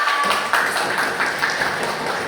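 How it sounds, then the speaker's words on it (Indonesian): A classroom group claps for a student named Sela as she comes forward to present, a steady patter of many hands filling the short stretch at moderate volume without a break. "Kita tepuk tangan untuk Mbak Sela."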